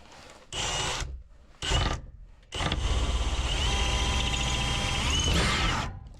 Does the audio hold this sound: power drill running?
yes